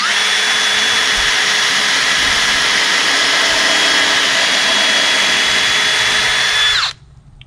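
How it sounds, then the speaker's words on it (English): An electric drill bores a pilot hole into wood for an above-ground grow box. Its loud, close whine holds steady for about seven seconds, then stops abruptly. "So we're going to drill a pilot hole."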